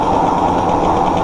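Romet Ogar 200 motorcycle engine running in first gear, a close, loud, steady buzzing two-stroke drone with a fast, even pulse and no speech.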